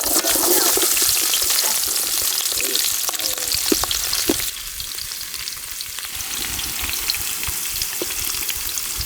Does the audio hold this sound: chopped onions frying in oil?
yes